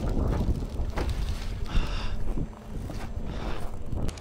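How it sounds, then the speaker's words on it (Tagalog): Gusty wind buffets the microphone in rough, uneven bursts, rising and easing without pause. "Sana mawala na yung hangin."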